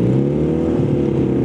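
A custom Honda Spacy 220cc scooter converted to a two-cylinder engine revs with a loud, close, throaty drone that holds steady with a slight rising pitch.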